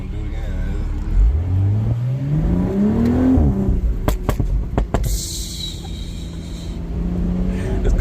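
Aftermarket exhaust on a 2024 BMW Z4 M40i rising through a rev, then sharp pops and cracks, loud and close before settling back to a low idle.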